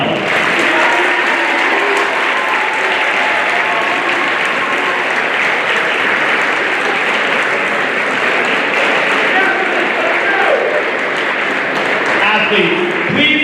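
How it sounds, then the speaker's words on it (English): At a high school fall sports celebration in Mojave, a large crowd applauds loudly and continuously, a thick, sustained roar of clapping with voices and cheers mixed in throughout. "one more round of applause"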